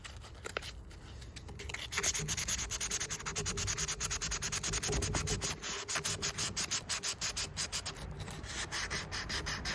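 Felco pruning shears being scrubbed clean of grime, a steady rapid back-and-forth brushing rasp that runs close and continuous with rhythmic strokes, no voices.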